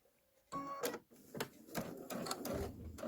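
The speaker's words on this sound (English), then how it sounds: "Okay, sewing machine." A sewing machine stitches a chambray tote bag blank, running in close, rapid mechanical bursts with brief pauses between stitching runs.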